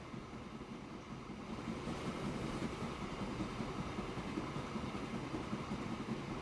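A train runs on a Wild West rail line in the Transport Fever video game. It makes a faint, steady rolling rumble with soft rhythmic clatter that goes on without a break.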